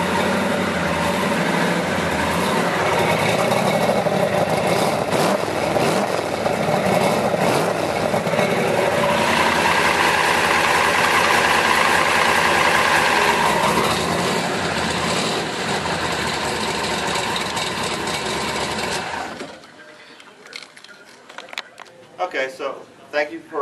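A 1966 Cobra replica muscle car engine starts and settles into a loud, rumbling idle close by for most of the stretch, then cuts off abruptly near the end, leaving faint handling noises.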